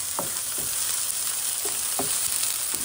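Onion frying in a pan for Filipino adobo, a loud steady sizzle with a few soft stirring scrapes of the spoon, close and without talking.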